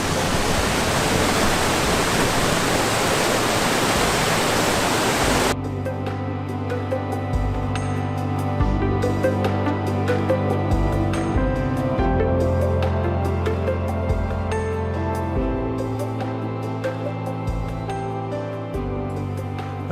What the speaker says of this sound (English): precariously perched on this rock in the middle of this fast-flowing stream